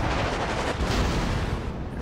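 Montana battleship firing a main gun salvo in World of Warships, a loud, dense booming blast with a rumbling tail filling the whole moment, no voices.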